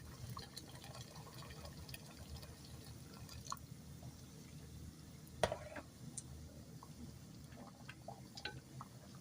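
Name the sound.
boiling water being poured into cooking pot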